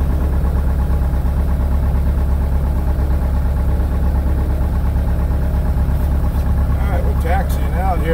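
A small floatplane's engine idles with a steady, loud low drone while taxiing on water, and a voice talks briefly over it toward the end.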